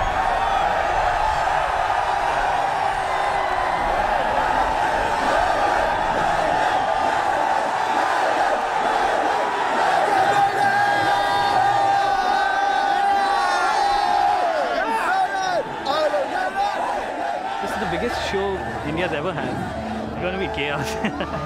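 A dense, roaring crowd of 30,000 Indian metal fans at a concert, with shouts and chant-like cries rising steadily and filling the whole stretch with loud noise.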